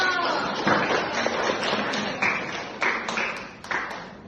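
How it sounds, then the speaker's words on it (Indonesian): A class of students applauding a classmate, a scattered burst of hand claps at moderate distance tapering off, with a few louder individual claps standing out near the end. "tepuk tangannya untuk Edo"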